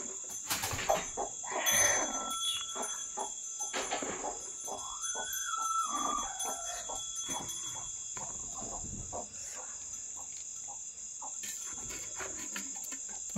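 A brooding hen on a farm, sitting on fourteen eggs as the chicks hatch, gives a few soft clucks and calls against a steady background of insect chirping.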